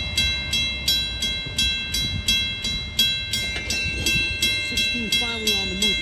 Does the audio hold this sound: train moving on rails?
yes